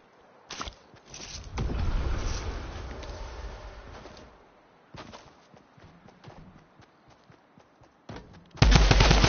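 Pistol shots from the video game Fortnite sound as sharp single cracks and short bursts spread across the clip, with a louder barrage at the end.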